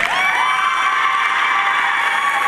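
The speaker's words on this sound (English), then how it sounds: "Please stand and give them a round of applause." Loud, dense cheering from a gym crowd honoring the 2011 Gulf High girls basketball seniors, with shrill whoops and shouting over steady applause that carries through the whole stretch.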